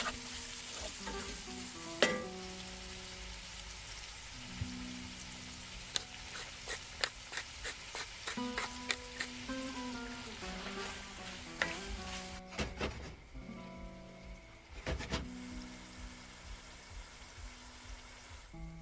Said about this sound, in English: The vegetables are finely diced and cooked gently in the now flavourful oil until well